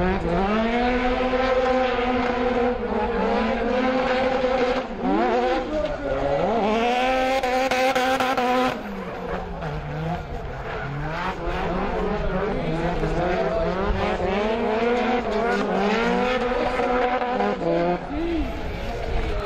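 Mazda RX-7 drift car on Falcon Tyres running at a drift championship round at Punchestown, its engine roaring loud and steady while tires squeal through the slides, with a commentator talking over it.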